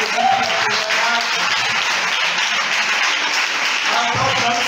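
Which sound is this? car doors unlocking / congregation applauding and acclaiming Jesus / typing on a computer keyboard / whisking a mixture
congregation applauding and acclaiming Jesus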